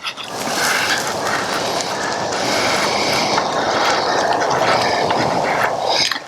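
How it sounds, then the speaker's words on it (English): A Leatherman Signal multi-tool blade scrapes thin shavings from a piece of fat wood outdoors, a loud, close, continuous rasping that runs unbroken for about six seconds. "Trying to carve some little shavings off soon enough that it will start a fire"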